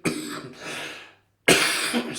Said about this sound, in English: I've still got a bit of the cough.